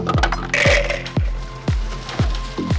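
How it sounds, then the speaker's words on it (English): Ice cubes are dropped into a fishbowl cocktail glass, landing as several hard clunks and glassy clinks in an uneven sequence, close and clear, with no voices. "So there, we're going to load it up with some ice."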